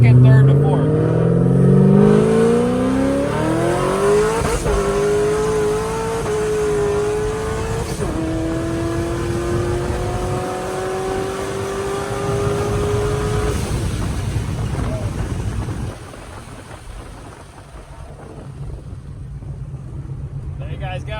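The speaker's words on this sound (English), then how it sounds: "We'll do one more pull for you guys, a little bit longer. We'll do a second, third, and fourth." A supercharged 900-plus horsepower C5 Corvette accelerates hard in a full pull through second, third and fourth gears, engine pitch climbing in loud sweeps with supercharger whine and pauses at each shift, then easing off amid road noise.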